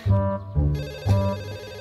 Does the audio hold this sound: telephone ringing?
yes